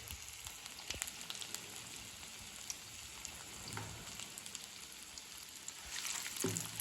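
Urad dal bajjis fry steadily in hot oil, a dense close crackling sizzle with scattered sharper pops, running alone without talk.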